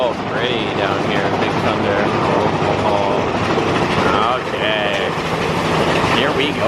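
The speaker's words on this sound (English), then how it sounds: "it's time for Big Thunder Mountain Railroad" Big Thunder Mountain Railroad roller coaster train at Disneyland, heard from onboard as a loud, continuous rumbling clatter of the cars on the track, with riders' voices mixed in throughout.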